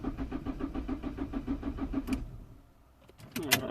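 Citroën C3 1.4 HDI diesel in limp mode with a fuel pressure fault, cranking on the starter with a steady rapid chugging rhythm for about two seconds without catching, then quiet and a few sharp clicks.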